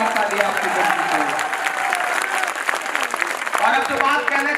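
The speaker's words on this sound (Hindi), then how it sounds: "इस पे और जोरदार ताली आपकी बजनी चाहिए।" An audience at a poetry recital claps steadily in a dense wash of applause, with a voice audible over the clapping.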